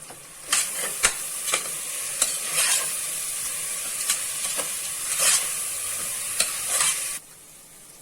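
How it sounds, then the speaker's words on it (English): Sliced onions and green chilies sauté in a hot pan with mint leaves, a steady bright sizzle broken by repeated scrapes and stirs of a spatula, close and loud, with no talking. "Next I am going to add the sliced onion along with the green chilies."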